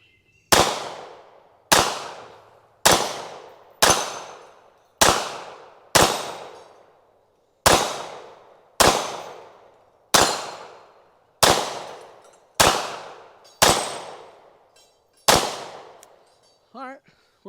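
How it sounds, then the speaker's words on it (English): Staccato CS pistol fired outdoors at a range: about fourteen sharp, loud gunshots at a fairly even pace of roughly one per second, each ringing off briefly, followed by a faint short sound at the end. "So let's just get our first couple shots off for you guys to see."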